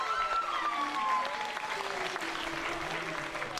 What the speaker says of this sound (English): Another round of applause for the class.